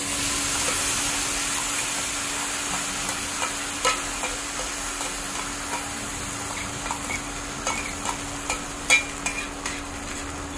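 A blended spice paste cooking in a pan for a paneer gravy made without onion or garlic. A steady bright sizzle hisses throughout, with scattered light scrapes and clicks of stirring that grow more frequent toward the end. No one speaks.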